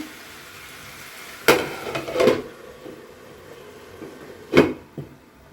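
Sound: chicken frying in spice tempering

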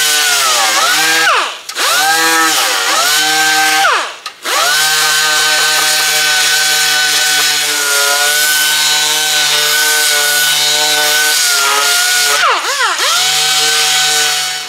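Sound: DA sander sanding paint off electric guitar body

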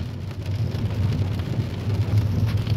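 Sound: rain falling in Kreuztal, Germany

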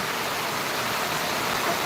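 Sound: heavy rain falling

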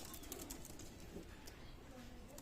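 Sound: pigeons cooing

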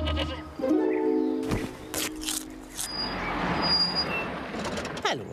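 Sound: goat bleating

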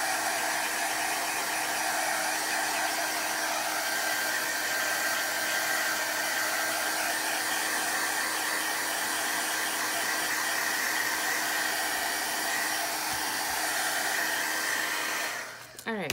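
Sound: hair dryer drying watercolor journal pages

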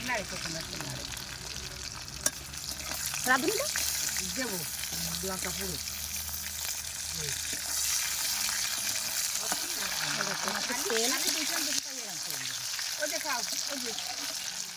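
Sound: dry red chilies frying in fish oil

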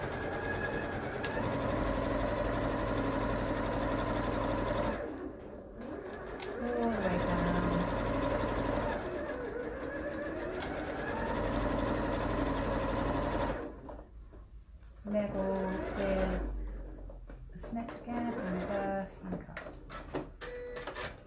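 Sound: sewing machine stitching a seam

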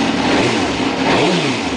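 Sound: 2005 Suzuki GSX-R750 motorcycle engine revving

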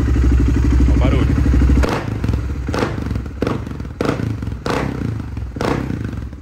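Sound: BMW G650X Supermoto motorcycle engine revving

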